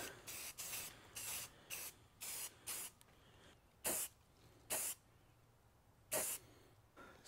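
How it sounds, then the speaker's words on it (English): Gray Rust-Oleum sandable primer sprayed from a can in short hissing bursts, a quick run of brief sprays followed by a few longer, evenly spaced blasts, close and fairly quiet. "So I'm starting the priming with just a sandable primer from Rust-Oleum, just a nice simple gray."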